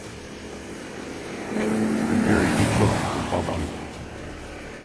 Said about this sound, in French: Le bruit d'un moteur n'est en fait que la circulation en face.